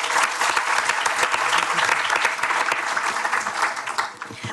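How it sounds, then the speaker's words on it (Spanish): Loud, dense applause from an audience at a scientific debate on transgenic crops in Chile, a sustained wash of many clapping hands that holds steady, then thins slightly near the end. "¿Le damos un aplauso para comenzar bien?"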